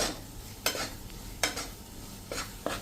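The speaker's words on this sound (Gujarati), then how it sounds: "અત્યારે જો આપણે આવી રીતે હલાવીશું ને તો હજી શેકાશે" A spoon stirs flour roasting in ghee for sukhdi, making quiet repeated scraping strokes against the pan, four distinct swipes at an uneven pace over a soft background sizzle, with no talking.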